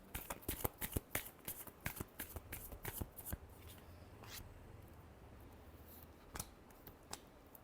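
A deck of tarot cards being shuffled by hand, a close run of quick crisp riffles and snaps that thins out into a few sparse taps, quiet overall.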